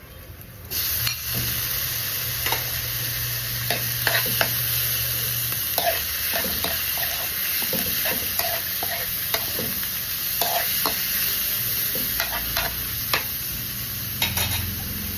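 Meat for chop suey sizzles steadily in a hot pan, with repeated scraping and clacking strokes of stirring throughout, close up and fairly loud.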